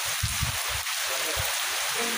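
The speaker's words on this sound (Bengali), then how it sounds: "মোটামুটি গুড়ি গুড়ি বৃষ্টি" Light drizzle during Cyclone Remal in a village: a soft, steady wash of rain with low gusty rumbles, likely wind, rising and falling throughout.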